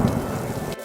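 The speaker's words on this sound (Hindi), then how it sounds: "भोला बारिश और ठंड से बचने के लिए कई लोगों के घर शरण मांगता है" Heavy rain with thunder in a Hindi cartoon moral story: a dense, loud downpour with a low rumble that cuts off abruptly near the end.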